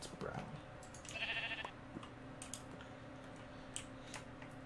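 A Minecraft-style sheep gives one short bleat early on, set against faint in-game clicks and quiet background sounds.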